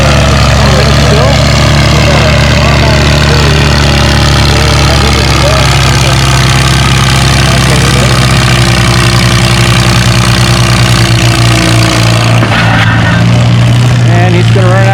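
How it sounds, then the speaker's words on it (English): A tractor engine runs loud and close at a fall tractor pull in Lynden, a heavy, steady low roar filling the air throughout and shifting in tone near the end, with a voice talking underneath. "He's on the tractor."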